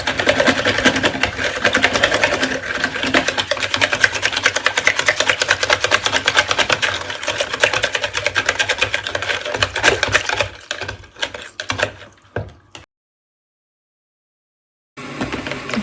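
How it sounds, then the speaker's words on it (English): A whisk beats quickly through a green homemade cleaning mixture in a bowl to break up lumps. The rattling strokes run fast and even for about ten seconds, then slow into a few scattered taps before stopping. "Just get rid of those lumps. Let's give it a whisk."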